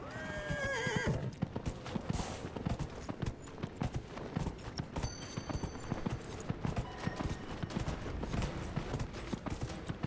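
Horse hooves clip-clop at a steady gallop with a whinnying neigh near the start, loud and continuous, set in the fantasy role-playing game Dragon Age Inquisition with dense game sound around it.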